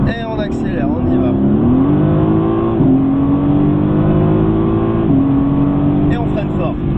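Mercedes AMG GTS engine accelerating hard on a race track, a loud in-car roar that rises through the gears with brief dips at shifts, while a voice talks over it at the start and end.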